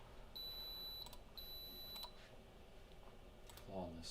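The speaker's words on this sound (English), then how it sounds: "I'm sure you guys enjoy that beeping sound" Two sustained high electronic beeps from an Alienware computer that won't power on, each about a second long, followed by a few short clicks and a brief chirp, faint over a quiet room.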